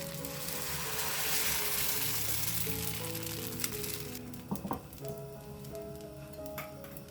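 Batter sizzles on a hot pan for an avalakki (poha) breakfast, a steady soft frying hiss that fades a little midway, with a few faint clicks and taps of a ladle near the pan.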